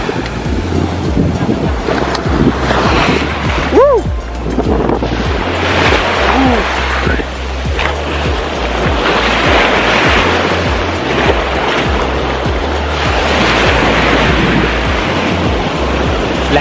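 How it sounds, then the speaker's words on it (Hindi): Surf crashes loudly and steadily onto a white-sand beach in Bohol, Philippines, with waves washing in around the feet. Heavy wind buffets the microphone throughout. "लहरें मेरे पैरों से आकर टकरा रही हैं बहुत तेज तेज"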